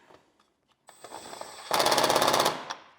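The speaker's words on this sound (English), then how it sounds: "So when you fasten the screw here, like this, this will pull the plastic to the floorboard" Screw driven into a plastic Can-Am floorboard with a power driver, a few faint clicks and handling noises, then a loud close buzzing rattle for under a second before stopping.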